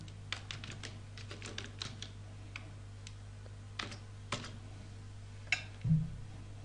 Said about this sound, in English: You just go there and type, let's say Shimla packages or vacations.